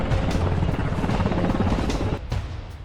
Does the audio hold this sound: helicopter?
yes